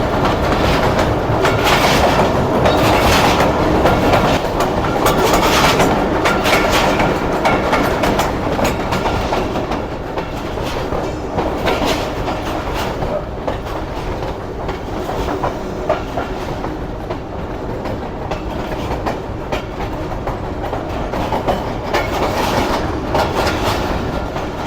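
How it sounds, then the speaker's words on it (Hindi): A train pulls out of Sukkur on the main line, its wheels rumbling loudly and continuously over the rails with clickety-clack beats and a rocking, bouncing rattle, close and sustained throughout. "तो ट्रेन इस वक्त हमारी सक्खर शहर से निकल रही है।"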